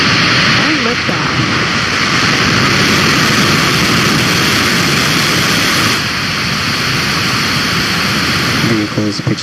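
A SpaceX Falcon 9 rocket lifts off on a Starlink mission, its engines a loud, continuous, saturated roar that fills the whole clip without letting up.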